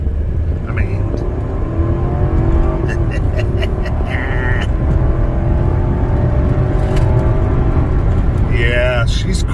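A 2003 Mercedes-Benz E500 on a test drive accelerates hard from near a standstill, its engine note climbing through gears in a steady whir, heard from inside the cabin while the driver talks over it.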